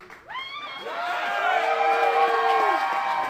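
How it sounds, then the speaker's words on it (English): An election-night crowd at a watch party erupts in cheers and whoops as a ballot issue goes down to defeat, loud and sustained over a few seconds with rising and falling shouts. "A jubilant crowd at Arnold's as the final tally showed issue 48 going down in defeat"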